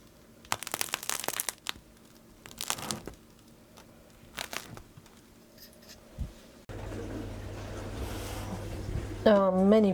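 A freshly baked mixed-flour sourdough loaf crackling as it cools, with bursts of sharp, crisp crackles up close in the first half, then a sudden shift to a louder background hum with a voice near the end.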